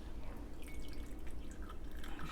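Water is poured into a pour-over coffee setup, producing a soft irregular trickle and dripping close by.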